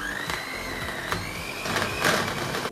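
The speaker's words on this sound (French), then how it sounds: "150 g de sucre. Et je viens mélanger au batteur." An electric hand mixer beating sugar in a bowl for pumpkin bread, a steady whirring motor hum with a faint rising tonal whine and light rattling against the bowl, close and moderately quiet.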